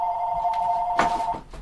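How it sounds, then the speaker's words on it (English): A telephone rings for an incoming call, a steady electronic ring tone held for over a second and then broken off, close and clear with faint background noise. "Oh, hang on, I got another phone call."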